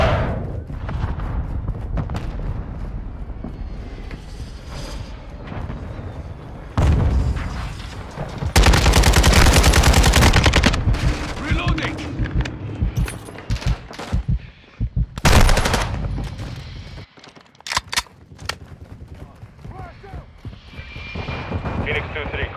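Aircraft fire mission called in during a Call of Duty: Modern Warfare II match: loud, sustained machine-gun bursts and heavy gunfire rumble in dense waves, with voices heard around the barrage.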